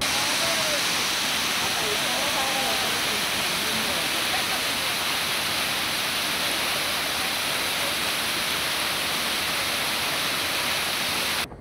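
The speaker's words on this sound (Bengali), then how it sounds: "ঝর্ণার স্বচ্ছ জলধারা আর তার মনোমুগ্ধকর শব্দ শুনে আমরা মুগ্ধ।" Shailaprapat waterfall in Bandarban roars as a loud, constant rush of falling water, broad and unbroken, heard up close with faint voices buried beneath it.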